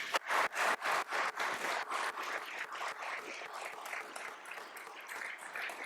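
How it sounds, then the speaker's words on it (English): A crowd at a public service award ceremony claps in applause, starting with a few strong bursts and settling into steady, sustained clapping without voices. "We can give him a round of applause, please."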